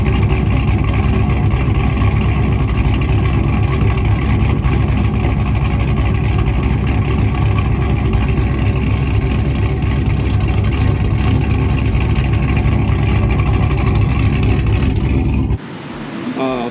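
Deep, steady exhaust drone from an OBS Ford truck with an LS engine swap and a DD equalizer exhaust, idling loud and close for a long stretch, then suddenly dropping to a quieter, rougher tone near the end.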